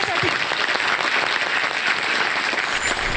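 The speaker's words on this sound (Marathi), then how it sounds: "एक जोरदार टाळ्या त्यांच्यासाठी" An audience claps loudly and steadily for a women's group performing at a Mangalagaur festival, a dense wash of close applause with faint voices mixed in.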